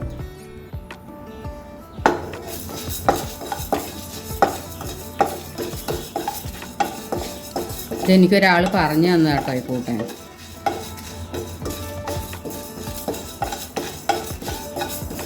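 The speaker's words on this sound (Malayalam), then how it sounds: "പാൻ ചൂടായിട്ടുണ്ട് കുറച്ച് പച്ചരിയാണ് ഞാൻ ഇട്ട് കൊടുക്കണേ പിന്നെ രണ്ട് വറ്റൽമുളക് രണ്ട് മണി ഉലുവ" Raw rice, dried red chillies and fenugreek seeds are dry-roasting in a hot pan, stirred with scraping and rattling strokes against the metal. A voice talks throughout, and a brief burst of louder clatter comes midway.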